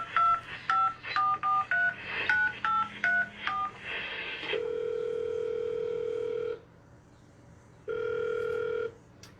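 A telephone number is dialed for a radio station call, giving a rapid run of short touch-tone beeps followed by two long ringback tones separated by a pause.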